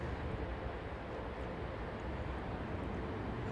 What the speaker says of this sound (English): Proper old school jetliner, man.